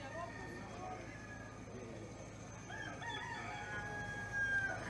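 Rooster crowing in a city on St. Lucia, a distant, moderately faint call heard amid busy outdoor ambience and a steady background hum.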